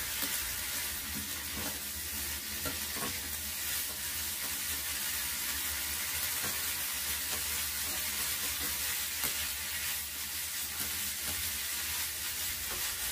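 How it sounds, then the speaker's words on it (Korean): Bracken fern stir-fried with perilla oil in a pan over medium heat, a steady close sizzle and crackle with soft scraping of stirring throughout, without any talk. "마지막으로 들기름 넣어주고 또 뒤적여주세요."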